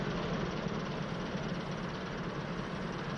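The Ikarus 263 bus engine in the OMSI driving simulator idles as a steady low rumble, heard from outside the bus, with an even hum throughout and no voices.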